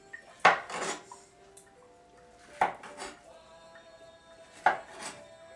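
A wet knife cuts through a sushi roll, giving three sharp, quiet clicks of the blade meeting the board at roughly two-second intervals, with faint rustling in between.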